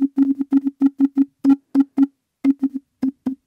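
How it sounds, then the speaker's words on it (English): Speaker feedback through an AGC mic Eurorack module rings out as a series of short, sharp pitched bursts, loud and close, pulsing in an uneven rhythm with brief silences between. "What you're hearing now is feedback from the speaker"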